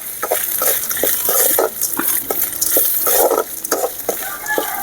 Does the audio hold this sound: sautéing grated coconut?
yes